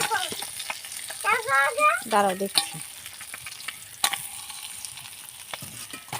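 Fish fry in a pan with a constant sizzle and spatter. A voice speaks briefly in the middle over the crackling oil.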